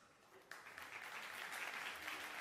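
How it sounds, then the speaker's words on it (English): Applause from an audience at an entrepreneurship event in Athens, Greece, starting abruptly and building into steady, dense clapping that fills the room without talk over it. "Let's hear the applause."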